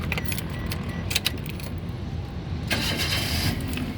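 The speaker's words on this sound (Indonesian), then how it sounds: "Setelah kita pastikan mobil aman, coba kita nyalakan mobil." Keys jangle near a 2011 Daihatsu Terios 1.5 TX automatic, then its engine is started and settles into a steady, fairly loud running noise close by.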